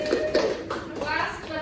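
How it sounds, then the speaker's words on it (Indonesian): Students in a classroom clap briefly, a light scattered patter of hands mixed with faint voices. "tepuk tangan untuk Putri Regina"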